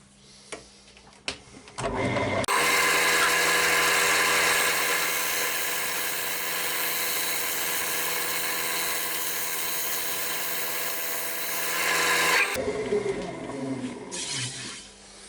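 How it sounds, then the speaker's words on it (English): A freshly sharpened spindle gouge skims the face of a sycamore platter spinning on a wood lathe, giving a loud, steady, sustained cutting whir for about ten seconds, with a brief start and stop at either end. "I'm going to get my spindle gouge, newly sharpened, and just try and skim some of this off before I sand it down"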